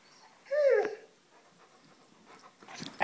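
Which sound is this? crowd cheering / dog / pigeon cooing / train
dog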